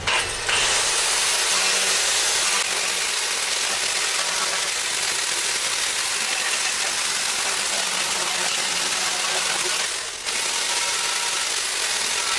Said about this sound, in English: We're going to start off with some 40 grit on the grinder